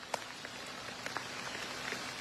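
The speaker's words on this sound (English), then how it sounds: "with a lot of rain. You can see it coming down hard again." Steady heavy rain hisses down on a neighborhood that flooded overnight, with scattered drop impacts and no voices.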